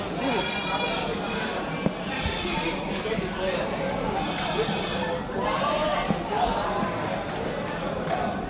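Small goats bleat at a livestock market, their calls mixed into steady crowd noise while people talk nearby throughout.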